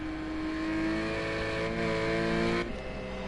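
A white Porsche GT4 race car crosses the line at Daytona Road Course in a racing video game, its engine revving loud and steady with a harmonic whine that drops off sharply near the end.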